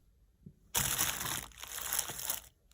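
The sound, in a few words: plastic bag being crumpled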